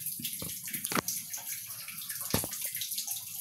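Water runs steadily into a basin in a bathroom being cleaned, a continuous rushing splash with small gurgles and a few sharper pours, close and unbroken for the whole stretch.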